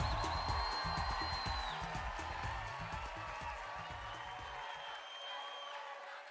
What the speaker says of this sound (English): Let's have a round of applause again for our 89 contestants.